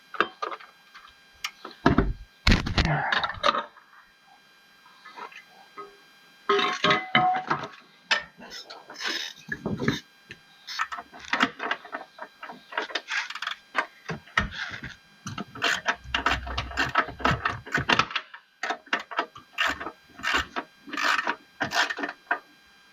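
Metal bolts being tightened during assembly of an Earthquake garden tiller, heard as repeated close ratcheting clicks, scrapes and rattles in irregular bursts across the whole stretch, with brief pauses between runs of turning.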